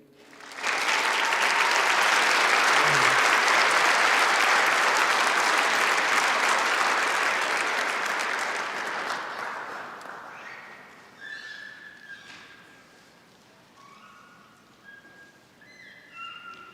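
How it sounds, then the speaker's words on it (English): Audience at a university recognition ceremony breaks into loud, dense applause that holds steady for several seconds, then gradually thins and fades into sparse claps with faint murmuring toward the end. "Let's give everyone another round of applause."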